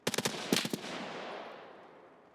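M4 rifle fire in the game Escape From Tarkov: a rapid string of loud, sharp shots in two short bursts, each crack trailing into a long echoing tail that fades out.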